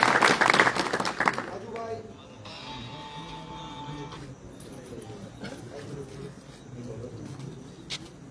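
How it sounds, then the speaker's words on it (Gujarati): An audience at an Aam Aadmi Party political rally breaks into a short burst of clapping, loud at first and then fading, followed by a speaker talking over a loudspeaker. "તેને તાળીઓના ગગડાટ."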